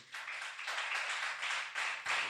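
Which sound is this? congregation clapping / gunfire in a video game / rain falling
congregation clapping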